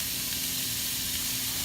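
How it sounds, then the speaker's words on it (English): Steady, loud sizzling and hissing from a skillet as a little over a pound of ground beef is broken up by hand and dropped in, a continuous dense frying hiss. "So I'm just breaking it up with my hands as I drop it into my pan."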